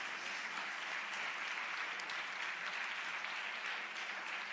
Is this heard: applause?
yes